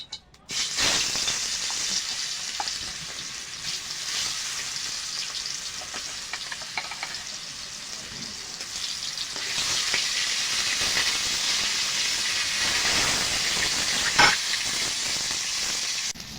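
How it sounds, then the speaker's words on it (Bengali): Pangas fish pieces coated in turmeric, salt and a little oil hit hot oil in a kadai, sizzling and hissing loudly and continuously, with occasional stirring scrapes and a brief louder spike near the end. "মাছটা দিয়ে দেব।"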